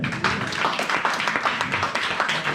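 A church congregation claps in praise, giving rapid, continuous rhythmic hand claps at close range, with a dense steady texture and no talking.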